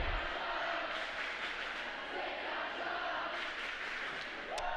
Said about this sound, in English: Pretty classy chant right back by the Huskies.